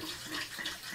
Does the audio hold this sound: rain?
no